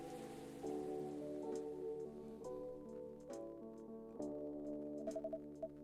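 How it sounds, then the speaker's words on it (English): Steady, soft rain falls in the video game Coffee Talk, a faint even patter running beneath gentle sustained musical tones throughout. "I think the rain is over."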